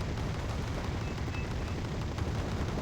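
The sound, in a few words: twin KDA autocannons firing in Wargame Red Dragon video game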